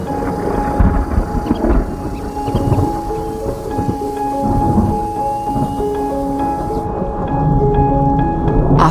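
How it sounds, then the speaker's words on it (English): Rain and thunderstorm arriving after months of drought in hyena country, low rolling thunder rumbles and steady rain, heard with layered musical tones over the top. "After months of drought and struggle, the rains finally arrive."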